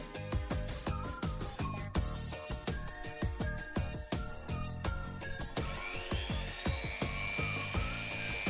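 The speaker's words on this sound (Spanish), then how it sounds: "al taladro eléctrico." A small electric drill whirs in short bursts boring holes in a miniature figure's base, its pitch rising and falling, with clicking and scraping between runs, close by.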